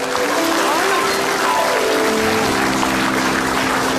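Studio audience at an Indonesian comedy talk show applauds in a dense, steady wash of clapping that fills the whole stretch at even loudness, with faint tonal music lines running underneath.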